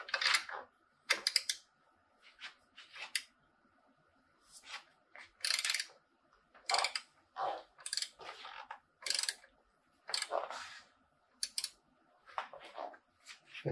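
Tightening battery wiring connections with a hand tool, producing short bursts of ratcheting clicks and metallic scraping, close and fairly quiet, separated by brief pauses.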